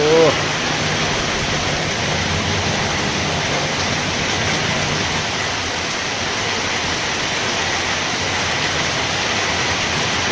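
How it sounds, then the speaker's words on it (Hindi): Heavy rain pours down in a dense, steady hiss that fills the whole stretch without let-up, close and even in level, with no voices heard. "बढ़िया वर्षा"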